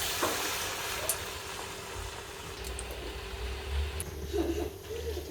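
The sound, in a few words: manchurian balls deep frying in hot oil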